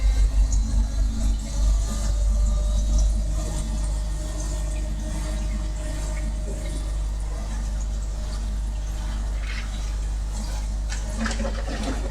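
Water rushes and churns steadily as a pump refills an outdoor koi pond grow-on tank, a continuous near wash of flowing liquid with a low rumble throughout.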